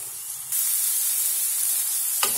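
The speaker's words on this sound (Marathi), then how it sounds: "बारीक काप केलेला कांदा टाकायचा आहे आणि त्याला छान परतून घेऊया" Finely chopped onion hits a hot pan and breaks into a loud, steady sizzle that holds after a brief quiet start, with a faint scrape near the end.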